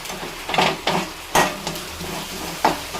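Sliced onions sautéing in a pan until golden brown, a close steady sizzle broken by several scraping stirs of a spatula against the pan at uneven intervals, no voices.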